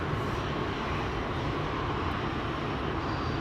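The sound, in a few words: aircraft at Amsterdam Schiphol Airport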